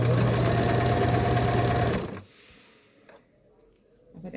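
A sewing machine stitches a patchwork blanket, running loud and steady with a strong hum for about two seconds, then stops abruptly, leaving quiet room noise with a couple of faint clicks.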